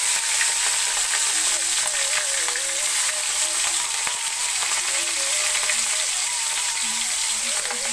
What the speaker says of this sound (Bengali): এবার গরম তেলে একে একে মাছগুলো দিয়ে দিচ্ছি